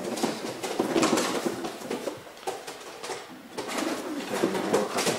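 Racing pigeons coo in a loft, several birds overlapping in soft repeated rolling calls with a fluttering patter, close and continuous.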